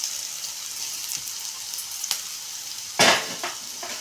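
A paste of green chilies, coconut, salt and garlic fries in a pan with a constant close hiss and sizzle, and a louder stirring scrape flares up near the end.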